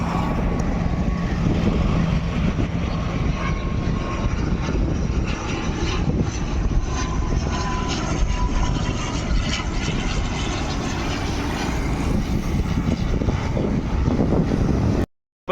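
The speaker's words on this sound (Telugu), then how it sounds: "ఏరోప్లేన్ ఇప్పుడే దిగుతుంది." Fixed-wing airplane landing at Tirupati airport, a loud continuous jet engine roar heard from close by a road, steady throughout and cutting off at the end.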